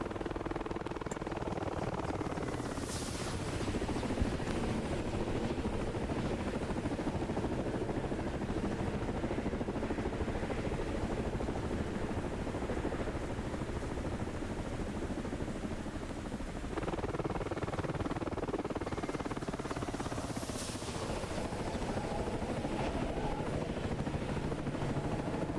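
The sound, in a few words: Boeing E-3 Sentry aircraft flying overhead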